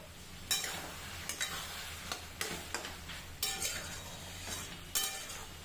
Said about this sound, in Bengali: এবারে পনিরটা ভাজা দিয়ে দিলাম, নেড়ে চেড়ে নেবো